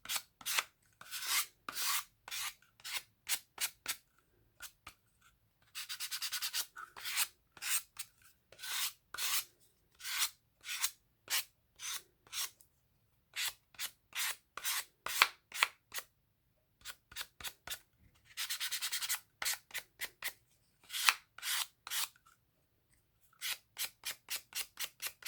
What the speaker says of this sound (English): I let the sandpaper block do the work to take that corner off